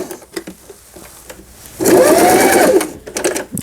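A Singer 8280 sewing machine runs a burst of stitching for about a second, a loud, close mechanical whir that starts and stops sharply amid quieter handling clicks.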